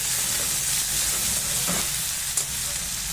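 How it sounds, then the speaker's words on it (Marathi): Chopped tomatoes sauté in a pan for a sukhi matki bhaji, giving a steady broadband sizzle throughout with a faint clink of a spoon stirring near the end, no voices. "आता आपण त्याच्यामध्ये चिरलेला टोमॅटो टाकून घेऊ टोमॅटोला छान असं परतून घेऊ"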